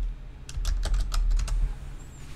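Keystrokes on a computer keyboard as a command is typed, about a dozen quick close taps in an uneven burst with no talk.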